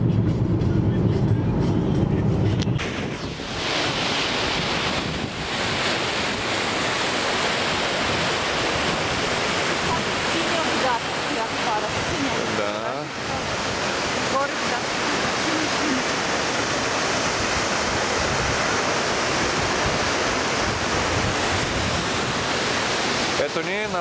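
Öxarárfoss waterfall on Iceland's Golden Circle gives a steady, dense roar of falling water that holds constant throughout, with a brief heavier rumble at the very start.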